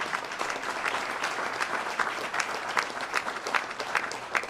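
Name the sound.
audience applauding a speech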